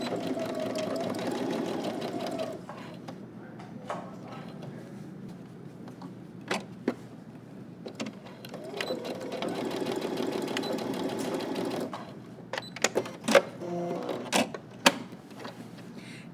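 A sewing machine stitches a seam on slacks in bursts, running steadily for a couple of seconds, stopping for a pivot, then running again, with small clicks and handling noises between runs.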